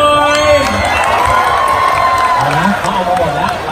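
Crowd cheering and shouting with scattered applause at a Toyota roadshow stage event in Chiang Mai, a steady loud wash of voices and whoops throughout, with a presenter's voice over the crowd.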